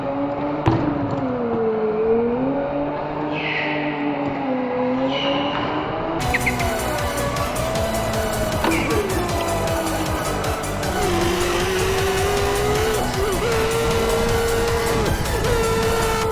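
Race cars in a racing video game roar with rising and falling engine tones, and tires squeal as the cars spin and brush against each other. The engine noise is continuous and close, with sharp bumps where the cars make contact.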